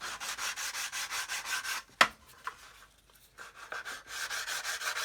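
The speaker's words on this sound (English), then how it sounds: "So I'm going to start with my 220 grit." Close, rhythmic rasping strokes of 220 grit sandpaper on a sanding stick working a model aircraft wingtip's leading edge, with a short pause and a couple of knocks midway before the strokes resume.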